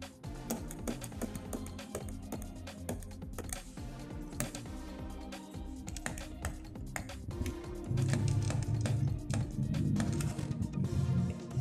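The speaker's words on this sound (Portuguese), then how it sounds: "Agora eu vou digitar o código real do aparelho" Buttons on a Ford CDR 4600 car radio pressed one after another to enter an unlock code, giving close, dense clicks and taps over a steady background hum with no talking.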